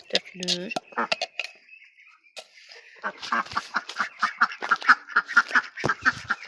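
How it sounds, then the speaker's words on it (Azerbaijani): Ducks quacking loudly and eagerly as feed is poured out for them on a small farm, a dense run of overlapping close quacks, starting with a few calls and building into a busy chorus. "Ördəklər daha çox yeyir, çünki onların qida borcusu olmur."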